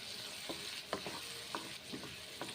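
Green peas curry (motorshutir dom) simmering and frying in a pan, a quiet continuous sizzle broken by soft rhythmic spoon scrapes while it is stirred, faint and without voices.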